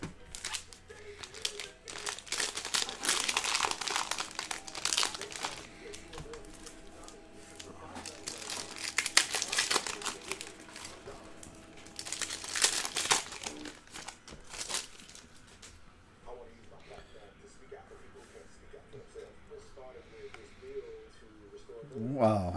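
Panini Prizm basketball card pack wrappers (2019-20 NBA) are ripped open and crinkled in repeated bursts of tearing and rustling, then handling noise quiets down while faint background sounds continue.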